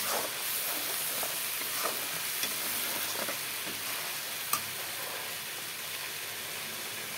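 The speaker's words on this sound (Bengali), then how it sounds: "এখন মশলাগুলো ঢেলে দেব। মশলাগুলো কষিয়ে নিই" Spices frying in oil in a pan for chili paneer, giving a steady close sizzle with faint stirring clicks throughout.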